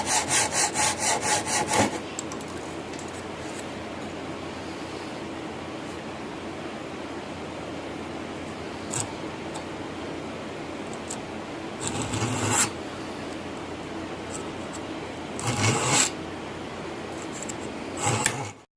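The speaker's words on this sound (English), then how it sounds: "So I'm going to go ahead and saw all these edges off." A hand saw cuts the edges off scrap wood for a jewelry box, with a burst of rasping strokes at the start and two more later, separated by quiet stretches of faint room noise.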